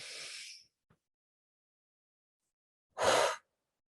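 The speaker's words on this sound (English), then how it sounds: "let's take some deep breaths" Two deep breaths taken during a guided breathing exercise, a long soft exhale at the start and a fuller, louder breath a few seconds later, with near silence between them.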